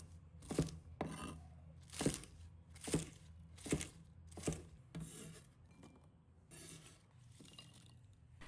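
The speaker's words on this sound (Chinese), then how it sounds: "几根小葱，把它切成小段" A knife slices green onions into short pieces, striking a board in a regular series of about ten close, crisp cuts that grow softer and more spaced toward the end, with no talk.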